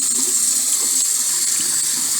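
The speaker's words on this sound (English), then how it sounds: "now we're going to rinse them and check our progress." Makeup brushes are rinsed under a running tap, a steady, loud, close gush of water with no voices.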